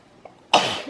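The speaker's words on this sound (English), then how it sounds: "Oh, sneezing is gonna happen." A single close, sudden sneeze bursts out after a faint breath, sharp and loud, fading within half a second.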